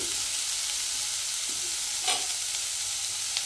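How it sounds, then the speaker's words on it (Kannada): Beetroot sizzling steadily in a frying pan, a continuous close frying hiss with a brief stir or shift of the pieces partway through, no voices. "ಚೆನ್ನಾಗಿ ಫ್ರೈ ಆಗ್ತಿದೆ."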